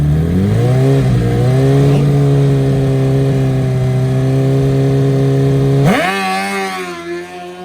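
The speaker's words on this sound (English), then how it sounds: "Listen to that motorcycle at the top of first gear." A nitrous drag bike at a drag race revs hard to the top of first gear, a loud, sustained rising engine note that holds high and then spikes sharply before fading as it pulls away.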